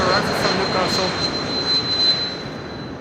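Nippon Cargo jet airliner taxiing at Amsterdam Schiphol, a steady broadband engine roar with a thin high whine, continuous and fairly loud at moderate distance throughout.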